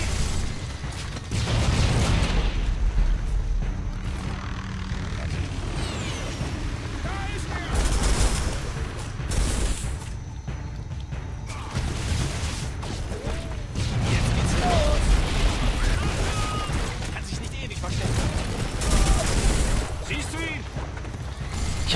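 Gunfire in the video game Turok: repeated loud shots and mechanical weapon clatter in bursts throughout, mixed with booms and crashes, with someone talking over the action.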